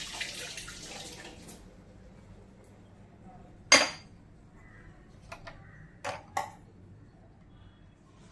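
Dishes and a tea strainer being washed, with a faint wash of running water at first, then a few sharp metallic clinks and knocks spaced apart in a quiet kitchen.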